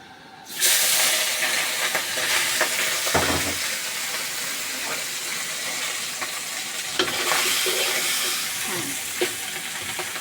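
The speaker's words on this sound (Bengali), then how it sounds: "মাছটা উলট পালট করে হালকা করে ভেজে নেব" Tengra fish fries lightly in oil in a kadai with a loud, close, continuous sizzle and hiss. Occasional scrapes and knocks come through as the pieces are turned over.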